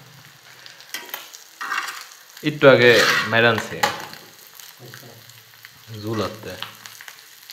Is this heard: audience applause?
no